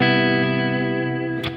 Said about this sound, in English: here's a major 7th.